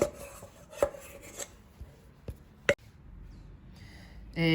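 Slow-fermentation pizza dough being scraped around a bowl, several sharp knocks and scrapes at irregular intervals over a soft rubbing background, close and with no talking.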